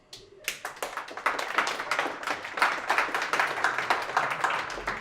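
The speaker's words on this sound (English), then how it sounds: "I want you guys to give yourself a round of applause for doing so" An audience at a photographers' event breaks into sustained applause, many hands clapping together in a dense, lively patter that builds and continues steadily throughout.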